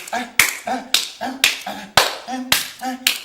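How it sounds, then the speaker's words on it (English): Sharp hand claps repeat in a steady rhythm, roughly twice a second, each followed by a brief voiced grunt or chant. "And when they clap their hands"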